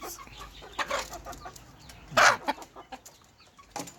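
Thai gamecock hens cluck close by in a farm setting, giving scattered short clucks and one louder squawk over a low background, with no speech.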